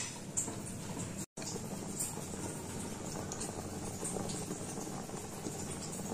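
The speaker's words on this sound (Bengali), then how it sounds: "ডাল ফুটতে শুরু করেছে।" Lentil dal with a fish head bubbles gently in a pot, a faint continuous simmer with light popping and patter, heard alone without voices.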